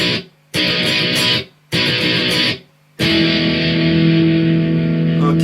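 Heavily distorted electric guitar plays the fill from a song: three short bursts of rapid picking with brief pauses, then a final note left ringing loud and sustained.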